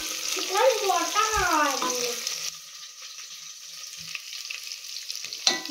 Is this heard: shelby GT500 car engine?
no